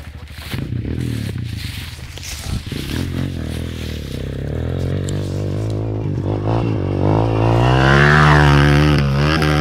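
A motorcycle engine revs up close, starting with rough clattering and then climbing into a loud, rising whine that holds and swells over the last few seconds.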